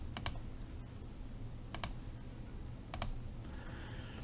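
A folder name is typed on a computer keyboard in three brief, sparse bursts of a couple of keystrokes each, set against a steady low background hum, with no talking.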